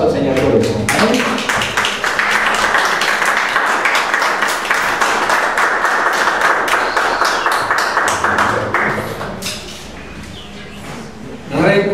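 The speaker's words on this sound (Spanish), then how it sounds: "Denle un aplauso al Señor por eso." A church congregation claps steadily for around nine seconds, a dense roar of many hands that tapers off at the end.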